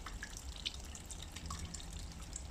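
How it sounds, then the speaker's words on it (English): Wort from a finished extra pale ale brew, after a 15-minute hop stand, runs through a hop spider into a fermenter as steady close dripping and trickling liquid, with no voices. "I'm just transferring everything through the hop spider into the fermenter"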